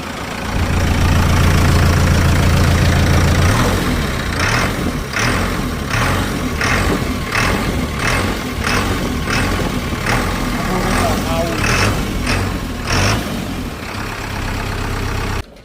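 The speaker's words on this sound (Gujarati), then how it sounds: "હવે મિત્રો હું તમને એન્જિનનો અવાજ સંભળાવું છું" A 2017 JCB 3DX backhoe loader's diesel engine idles nearby, rumbling steadily with a series of regular rhythmic knocks and clatters layered over the drone before it cuts off at the end.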